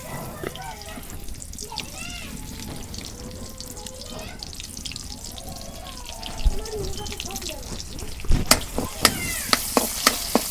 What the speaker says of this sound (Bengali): সর্ষের তেল দিয়ে দিলাম পেঁয়াজ কুচি দিয়ে দিলাম